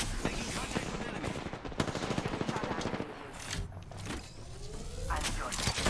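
Video game gunfire rattles in rapid automatic bursts, dense at first and then easing into scattered shots, with a voice talking over parts of it.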